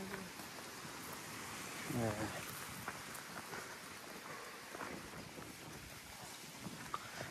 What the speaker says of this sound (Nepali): साह्रै हावा चल्ने यार तिम्रो गाउँ चाहिँ